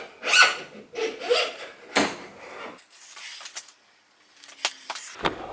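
Motorcycle fork tubes on an Africa Twin being swapped for KYB units slide into their clamps with rasping, rubbing metal scrapes in short, close strokes separated by quiet pauses.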